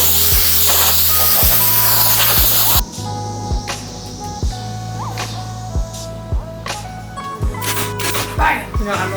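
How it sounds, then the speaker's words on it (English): A hose spray blasts debris off a closet door in a loud, steady hiss that cuts off abruptly, leaving quieter clicks, knocks and background hum. "so we're gonna go ahead and spray it off."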